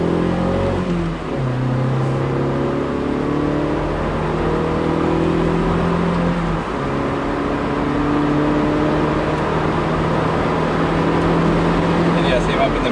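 A Mazda3 accelerating hard on a wet road, its engine note climbing steadily in pitch with a brief dip at a gear shift, heard from inside the car with a voice speaking over it.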